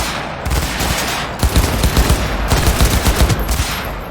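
Automatic gunfire in Cyberpunk 2077's training area: a loud burst, then rapid repeated shots in quick succession, sharp and close with no talking.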